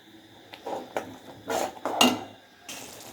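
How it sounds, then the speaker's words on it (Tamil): Masala paste is stirred in oil in a pan over high flame for a roadside-style empty salna. A few distinct metallic scrapes and clinks of a spoon against the pan are spaced irregularly over quiet moments. "அடுப்பை ஹை ஃப்ளேமில் வச்சு நல்லா கிளறிக்கலாம்."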